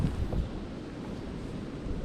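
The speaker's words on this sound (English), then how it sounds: "Oh my goodness, it's so windy. Crazy windy." Strong gusting wind blows across a microphone at a creek during a fishing outing, a low rumbling buffet that stays steady and moderately loud throughout with no speech.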